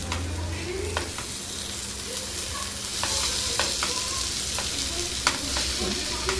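Village-style dry fish (bommidayala) curry is stirred in a pan: a steady close sizzle under repeated scraping and clicking strokes of the spoon, with no talking.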